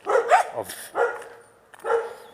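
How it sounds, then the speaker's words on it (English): Dogs bark and yip nearby in a few short bursts separated by pauses, loud and close, with a whimpering note between barks. "These dogs are distracting me."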